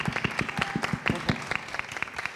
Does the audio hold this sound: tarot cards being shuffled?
no